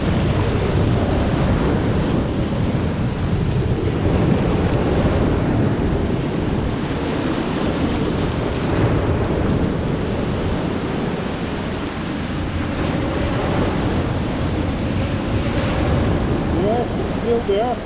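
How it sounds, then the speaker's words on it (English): Ocean waves rolling in on a muddy foreshore during mudlarking, a steady loud wash of surf with rumbling wind buffeting the microphone throughout, no voices. "have some waves coming in"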